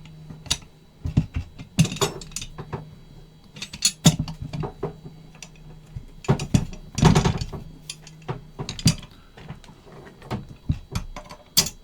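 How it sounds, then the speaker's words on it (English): M1 carbine bolt lifted, rotated and cycled by hand, giving a series of sharp metallic clicks and clacks in irregular bursts, close and fairly loud, with no talking. "Lift up, rotate your bolt,"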